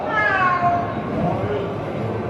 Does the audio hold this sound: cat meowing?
yes